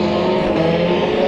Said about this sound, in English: that thing is backfiring and everything